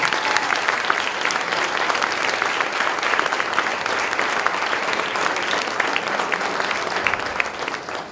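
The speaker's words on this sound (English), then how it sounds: "a round of applause for everything you've done" Sustained, dense audience applause at an inaugural luncheon and farewell event, steady and loud throughout before tapering slightly at the end, with no talking over it.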